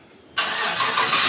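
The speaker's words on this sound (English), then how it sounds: "we're gonna do the remote start" A truck engine fires up by remote start, jumping from near silence into a loud, steady rushing idle close by, with no talk.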